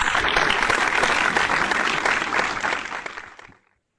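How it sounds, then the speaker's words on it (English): Audience applause at an IT symposium award ceremony honoring students: dense, sustained clapping from a large crowd that holds steady, then tapers off and stops before the end. "A big round of applause to all our students."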